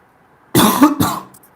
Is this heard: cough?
yes